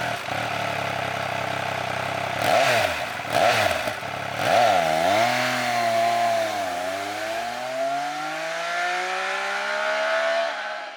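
A 2021 Triumph Speed Triple 1200 RS engine gives a few sharp throttle blips, then pulls into a long, rising-pitch acceleration, loud and close with no voices.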